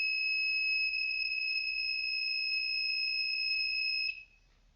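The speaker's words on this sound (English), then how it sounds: "Let's turn on this buzzer once." An ESP32 dev kit buzzer sounds a steady, loud electronic tone for about four seconds, holding a constant pitch alone with no talk, then cuts off abruptly into quiet background.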